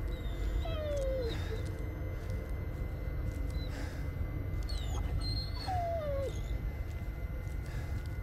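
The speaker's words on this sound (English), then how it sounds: "Better not be a dying dog" A dog whimpers in the video game Blair Witch, with two high, falling whines rising over a constant low rumbling ambience, the cries spaced several seconds apart and fairly faint.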